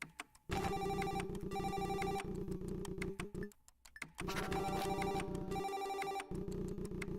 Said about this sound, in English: The thrum of ringing phones fills the air.